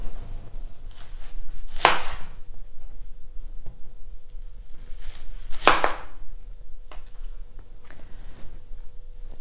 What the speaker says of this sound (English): Let's start by cutting our vegetables in big chunks,